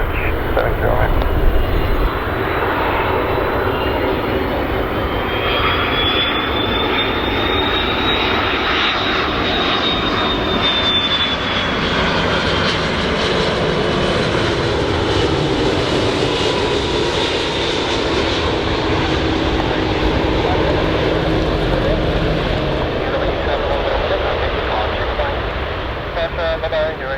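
A Turkish Airlines Airbus A330-203 in retro livery lands at Zurich Airport, its engines a loud sustained roar with a whining tone rising and fading as it passes, and radio talk heard over it.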